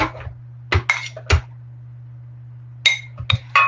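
Cooked azuki beans and utensils clink and clatter in a kitchen as they are strained and tipped into a blender, several short sharp knocks and clinks in two bursts with a steady hum underneath and no talking.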